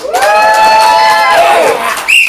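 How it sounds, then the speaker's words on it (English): Loud, sustained cheering from a Portland comedy improv audience, long held shouts that fade, then a sharp high whoop rising at the end. "Applaud now for the Care Bear's huge stare."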